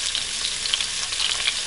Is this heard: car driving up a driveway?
no